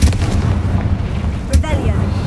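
A Confringo blast spell going off in the Hogwarts Legacy video game, a loud booming burst over a rumbling background, with a second sharp burst near the end.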